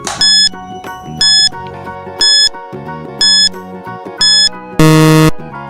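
A quiz countdown timer sound effect plays a steady series of bright, evenly spaced beeping chimes over a musical bed, about one per second, then ends in a long, loud buzzer.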